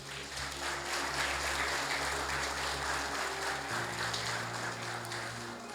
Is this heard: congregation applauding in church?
yes